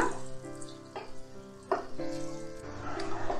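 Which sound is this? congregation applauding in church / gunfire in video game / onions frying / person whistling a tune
onions frying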